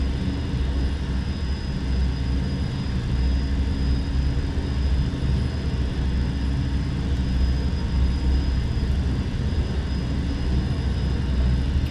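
Steady, loud roar of MD-80 jet engines at takeoff thrust in a flight simulator, a continuous broadband rumble and whine that holds level throughout with no talk over it.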